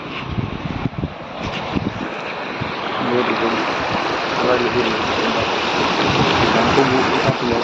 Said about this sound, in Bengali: তো সামনে দেখরা নদীর মাঝে জল কিলা বাড়ে